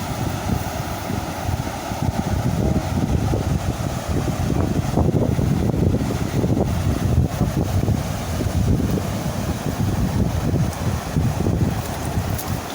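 Strong wind buffets the microphone at a lift-net fishing spot under overcast, rainy skies, a loud, continuous low rumble with gusty surges that persists throughout and masks other sounds.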